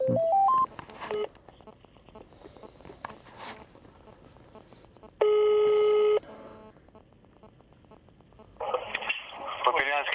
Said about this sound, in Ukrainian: Дзвонимо на 102.